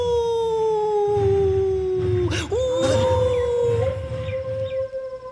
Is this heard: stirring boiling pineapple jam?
no